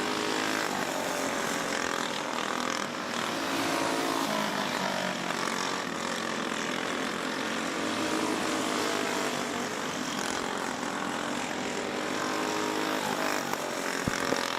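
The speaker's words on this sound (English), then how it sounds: "More Junior 1 karts making their way out to qualifying" Junior go-karts heading out onto the track at Forks Karting Speedway to qualify, a dense continuous engine drone from several karts blending together at moderate distance, steady throughout with no talking.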